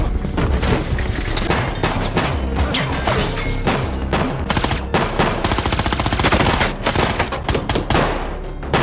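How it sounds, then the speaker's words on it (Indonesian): Dense gunfire from a film shootout in an apartment, with sustained machine-gun bursts, rapid overlapping shots and heavy booms, loud and continuous throughout without speech. "terjadilah baku tembak di sana"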